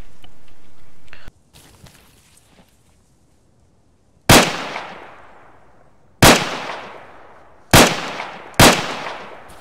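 Four loud weapon shots crack out one at a time in Arma 3, each followed by a long decaying echo, fired with tracer rounds during a ballistics demonstration after a quieter stretch of faint rustling.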